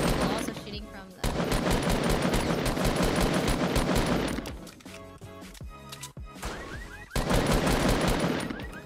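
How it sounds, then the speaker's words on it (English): Rapid bursts of drum gun fire in the Fortnite battle royale game crackle loudly in long sustained volleys, broken by a short pause and then resuming, with faint voices talking underneath. "Drum gun from long range is so garbage"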